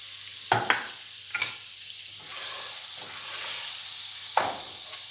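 About 200 grams of margarine melts and sizzles in a heated pan for semolina halva, a continuous close hiss broken by a few sharp scraping stirs.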